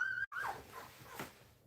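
A small bully-breed puppy whimpers faintly in a kennel in cold weather, giving a few thin high whines over a low background rumble.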